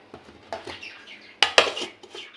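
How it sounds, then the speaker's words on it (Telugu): A spoon mixes raw chicken with spices and oil in a bowl, making soft scraping and wet squelching with a few sharp metal clinks against the bowl near the end; no one speaks. "ఇప్పుడు ఇవన్నీ చికెన్కి పట్టేటట్లుగా కలుపుకుందాము"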